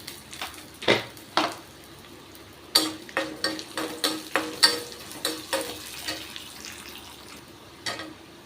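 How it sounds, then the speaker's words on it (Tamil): Urad dal, chillies, tamarind and asafoetida roast in a pan with a series of sharp, irregular scrapes and knocks of a spatula against the metal, close and fairly loud over a faint background hiss. "புளி செவக்கிற வரைக்கும் இதை வறுத்துக்கணும்."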